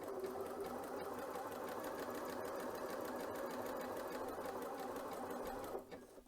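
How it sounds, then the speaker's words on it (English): A Janome C30 sewing machine stitches one side of a buttonhole, a quiet, rapid, regular needle chatter running continuously up close before halting near the end. "I'm going to lower the presser foot, and I will stitch the first side"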